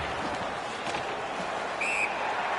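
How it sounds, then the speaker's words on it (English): Brief shrill referee whistle blown for offside in the hockey video game NHL 19, short and fairly faint over a continuous arena crowd roar. "A whistle for an offside."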